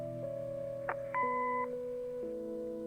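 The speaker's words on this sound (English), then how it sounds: "Leave a message after the beep." A short sequence of clean electronic tones from a video game answering machine steps through a few pitches, ending on a held synthetic beep.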